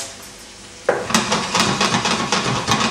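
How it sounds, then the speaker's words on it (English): Brussels sprouts seasoned with cracked black pepper and rock salt tossed in a hot pan, a sudden burst of sizzling with scraping and stirring clatter after a quiet start, close and steady. "we're just going to give that a quick saute around, and those Brussels sprouts are just going to wilt down"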